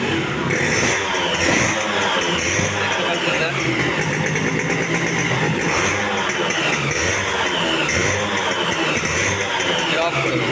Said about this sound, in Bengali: সরাসরি বাইকের ইঞ্জিন সাউন্ডটা দেখানোর চেষ্টা করব